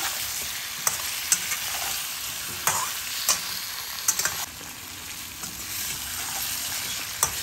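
Vegetables sizzle and fry in a pan with turmeric, salt and dry chili powder for a bottle gourd greens curry. A steady broadband hiss runs throughout, and sharp spatula scrapes against the pan recur close up at irregular intervals.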